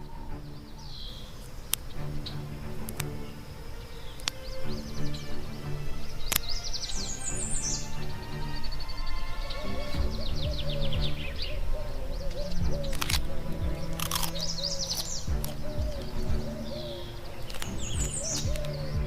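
Birds chirping and calling around a caracal in the wild, scattered bright tweets and short trills over a steady outdoor background, some near and some farther off, with occasional clicks and taps.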